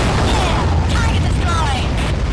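An enemy craft is blown up underwater in AquaNox. A dense, rumbling explosion wash with swirling mechanical whooshes stays steady and loud throughout.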